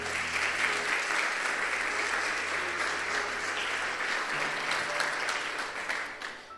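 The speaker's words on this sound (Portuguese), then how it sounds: "Aplauda o Senhor novamente." A church congregation applauding during a worship service, many people clapping in a broad, continuous roar that holds steady, with faint voices mixed in, then fades slightly at the very end.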